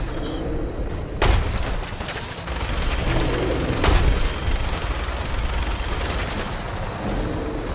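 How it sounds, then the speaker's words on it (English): Gunfire in the video game Fallout 4: a few sharp, loud shots ring out at irregular intervals over a constant rumbling game background. "Continue to pepper this guy with rounds."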